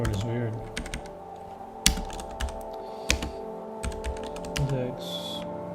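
Typing on a computer keyboard, with sharp, irregular clicks and a few louder key strikes, close by over a faint background hum.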